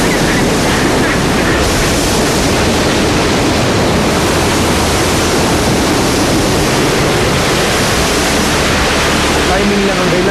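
Loud, steady roar of ocean waves crashing along a shore in spring, a dense continuous wash of surf with no voices over it.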